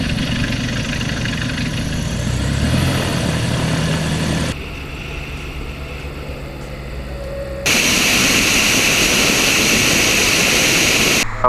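Diamond DA62 twin-engine airplane in flight after takeoff from Plant City, a loud steady engine and propeller drone heard from inside the cabin, shifting level in abrupt steps.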